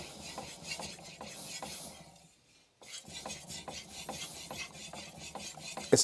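A knife blade is sharpened on an Altstone Rin 3000 grit splash-and-go whetstone, with rhythmic rasping strokes back and forth, close and clear, pausing briefly midway before the steady scraping resumes.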